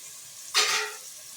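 Two medium chopped tomatoes tipped into hot ghee masala for mutton haleem, bursting into a loud sizzle that swells suddenly and then settles into steady frying, close and alone.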